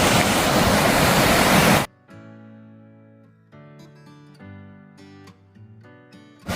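Creek water rushing loudly and steadily for nearly two seconds, then cutting off abruptly, leaving quieter intermittent tonal sounds.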